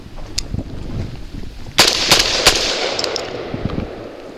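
A Genesis Arms Gen 12 shotgun fires Winchester AA 2 3/4-inch lead shells at 1200 feet per second at steel targets outdoors: three loud, sharp blasts in quick succession, each trailing into a brief echo, with fainter pops around them.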